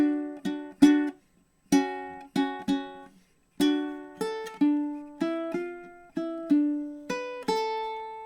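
A plucked ukulele plays a short riff, with clusters of notes, a brief pause, then a descending run of single notes, clear and close with no voices.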